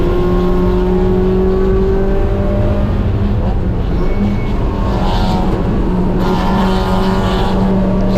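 ST6 race car at NCM accelerating along the track, a loud continuous engine drone with shifting harmonic tones that holds steady throughout, heard from the cockpit with a driver talking under it.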